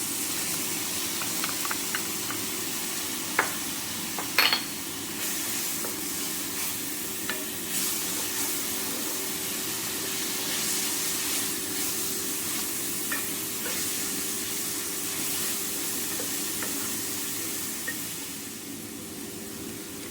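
Garlic sizzles steadily in a hot pan while creamy crab pasta cooks, a dense, even frying hiss that runs throughout with a few light utensil clicks and stirs, no voices.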